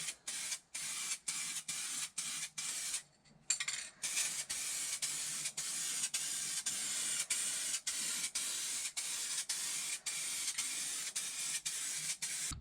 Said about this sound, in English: I'm about to start spraying the 3rd can here.